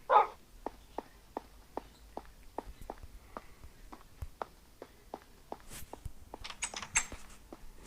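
Cartoon dogs in a blocky sandbox video game: a steady run of light, evenly spaced taps like paws walking, then a cluster of short, bright yips and barks toward the end, moderately close, with no talk.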